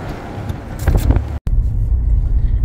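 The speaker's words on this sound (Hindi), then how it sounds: "हमारी गाड़ी भी बहुत स्लो स्लो जा रही है" A car creeps slowly through heavy weekend traffic on a road under construction in Oman at evening. Its cabin fills with a steady low engine and road rumble, briefly cut off once.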